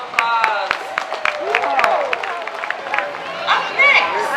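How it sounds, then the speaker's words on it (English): Parade crowd in Honokaa cheering and clapping for the fire and police departments, a loud, busy mix of applause, whoops and crowd chatter that carries on steadily throughout. "Please give them a big round of applause."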